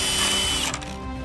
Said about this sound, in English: Drilling holes into wooden planks